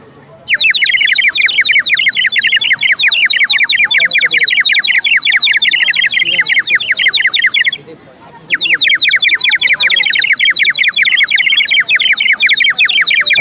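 A toy bird-call whistle, blown by mouth, trills loudly and continuously, a rapid warbling chirp that breaks off briefly midway and then resumes.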